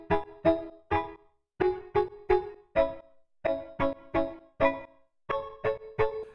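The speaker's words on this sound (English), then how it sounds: "When it comes down to it, it's just a saw pluck." A saw pluck synth preset, Blurred Shamisen, with a modulated filter and modulated reverb filter, playing a rhythmic pattern of short bright plucked notes in groups, separated by brief gaps, loud and alone.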